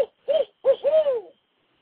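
A person imitates owl hoots outdoors in the field, giving four rounded, falling hoots with a short gap after the first, close and clear with no talking.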